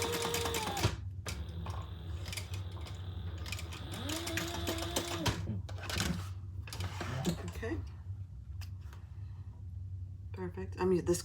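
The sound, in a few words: sewing machine stitching the edge of a key fob wallet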